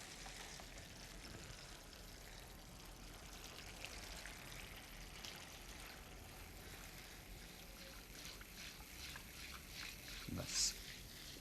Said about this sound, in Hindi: अब चाहे थोड़ा इसमें पानी डाल लीजिए।